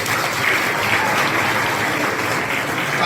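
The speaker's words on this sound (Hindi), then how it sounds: "अब तालियां बजाओ।" An audience at a college celebration claps steadily and loudly, a dense, even applause filling the whole stretch without voices on top.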